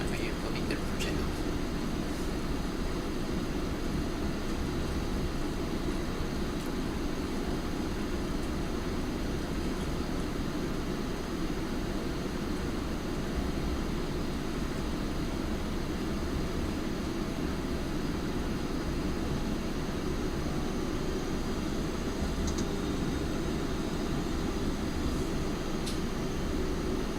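An airliner taxis uphill on a long taxi to the runway. A steady, moderate engine hum and cabin drone run unbroken, with faint occasional clicks.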